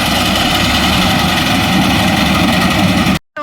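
A Farmtrac 60 tractor with a reaper cutting maize stalks in a field, a loud, close, steady engine rumble with continuous mechanical vibration, then a brief cut before it resumes.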